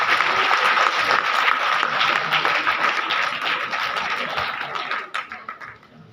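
Audience applause in a Kolkata theatre after an Urdu stage play, dense steady clapping from a large crowd that gradually tapers and fades toward the end.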